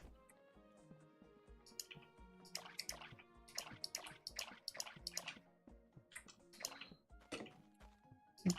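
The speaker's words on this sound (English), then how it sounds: "We need to water our plants." Soft watery drips and splashes from watering plants in the video game Core Keeper, a quick run of small liquid taps over a quiet background hum.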